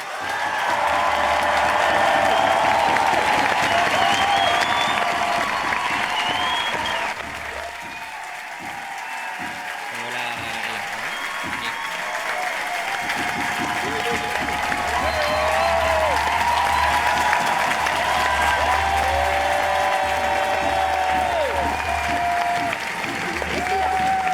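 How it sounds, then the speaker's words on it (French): Sustained, dense applause and cheering fill a large hall at an internationalist political rally against war and the far right. The clapping is loud and continuous, dips briefly partway through, then swells again, with some voices shouting under it. "Beaucoup d'applaudissements pour Choli et Natalia."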